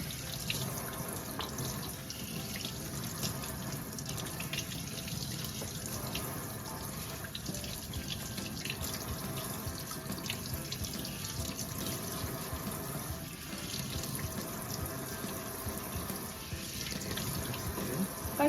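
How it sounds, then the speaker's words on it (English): Cold water running from a kitchen tap into a sink while freshly made butter is rinsed and squeezed by hand, a continuous even splashing stream with faint sloshing throughout. "Then you're gonna turn it on to cold water,"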